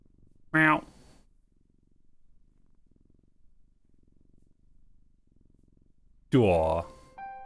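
Cat purring in the video game Lorelai, a soft low rumbling purr running steadily through, framed by two short louder cat meows at the start and near the end, with nothing else over it.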